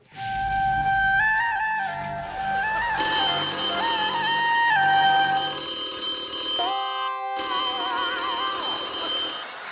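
A phone rings with an electronic melodic ringtone, loud and close, its tune changing partway through with a brief pause before it resumes, with no talk.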